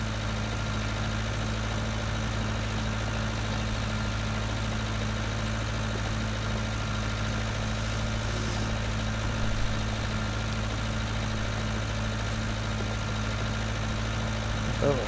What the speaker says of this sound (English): The Fiat is the biggest tractor we've got on the farm at 130 horsepower as well